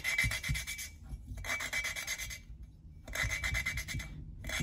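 An engine valve is lapped by hand with grinding paste, making a close, rhythmic rasping rub that repeats in back-and-forth strokes with short pauses between them. No speech.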